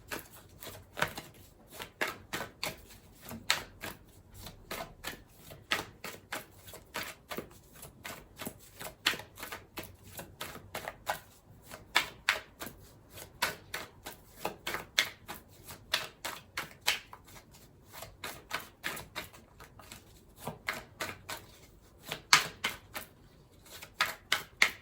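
Tarot cards riffled and shuffled by hand, giving rapid bursts of crisp papery clicks in irregular rhythm that repeat throughout, close and fairly quiet.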